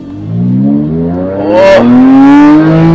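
A modified Porsche Cayman with an open Valvetronic exhaust revs hard, its engine note climbing through a gear change into a rising, loud roar close by, with no speech over it.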